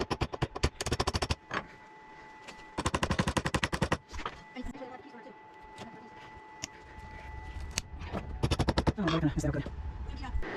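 A nail gun fires into a veneer lamp frame in loud rapid bursts of sharp clacks, broken by pauses with a steady hum and brief talk.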